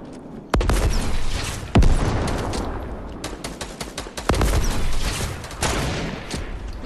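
Fortnite battle with RPG rockets firing and exploding amid gunfire, several heavy booms and sharp blasts over a dense crackle of shots, loud and close throughout.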